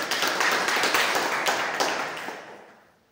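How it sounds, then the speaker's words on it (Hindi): An audience claps for Mr. OP Verma at a company gathering, a dense burst of many hands that fades out over the last second. "मिस्टर ओपी वर्मा सर के लिए प्लीज जोरदार तालियां आपके तरफ से।"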